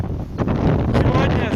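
Powerful Patagonian wind in Argentina, blowing at roughly 55 to 60 km per hour, batters the microphone in a loud, continuous rumbling roar with sharper gust bursts.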